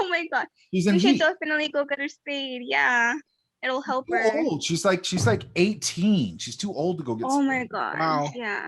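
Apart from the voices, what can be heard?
No distinct noise like a dog, phone or traffic.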